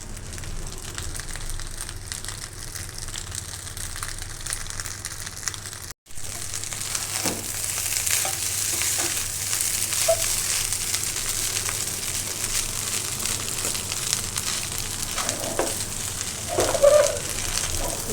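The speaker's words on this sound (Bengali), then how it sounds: "সস সসটা দিচ্ছি আমি এখন একটু সুন্দর করে নেড়ে চেড়ে নিই" Fried rice, with a little sauce just added, is stirred and tossed in a frying pan. A steady crackling fry runs throughout with scraping stir strokes, a brief cut partway, and a few louder knocks near the end.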